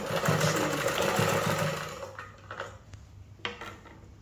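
A sewing machine stitching fabric for a bubu dress, a loud close mechanical whir for about two seconds that stops, followed by quieter handling clicks and rustles.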